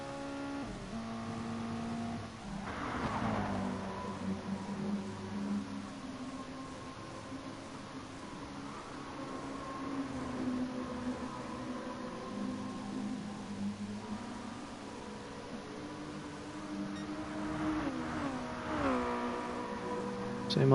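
Mazda MX-5 Cup race cars in Gran Turismo Sport at the Red Bull Ring short layout, engines droning with rising and falling revs and gear shifts as cars pass, loudest near the start and end.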